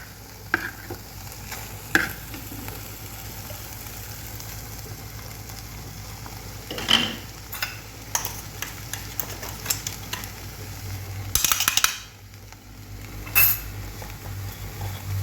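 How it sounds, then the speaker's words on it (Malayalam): Amla thokku with jaggery and masala stirred in a pan: a spoon scrapes and clinks against the metal in irregular strokes over a soft sizzle, with a louder clatter near the end, close by and without speech. "ഇനി നമുക്കിതൊന്ന് നല്ലോണം ഇളക്കി കൊടുക്കണം."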